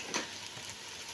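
Fried okra stirred together with pickle masala in a pan, a soft continuous sizzle with faint scraping, quiet and close.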